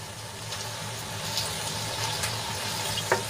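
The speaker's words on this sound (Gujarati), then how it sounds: "મસાલો સરસ રીતે ભીંડામાં આપણે મિક્સ કરી લઈશું" Okra sizzling in a pan on low heat as a peanut and sesame masala is stirred in, a steady soft hiss with faint scraping and small clicks, no talking.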